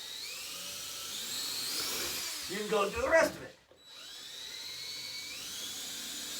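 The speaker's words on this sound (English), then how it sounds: "We only want to drill through the sole." A power drill whines through the sole of a roller skate boot, its pitch rising and falling, briefly interrupted by a short spoken remark before it resumes.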